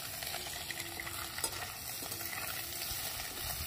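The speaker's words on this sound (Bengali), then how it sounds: "মাছটা হালকা করে ভেজে নেব" Small chuno fish lightly frying in a pan for a spicy chochchori, a soft steady sizzle with occasional stirring clinks, close and continuous with no talking.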